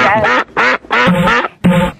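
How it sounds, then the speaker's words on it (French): A duck quack sound effect played on a radio call-in show, four loud nasal quacks in quick succession, close and clear with short gaps between them. "On t'envoie un canard"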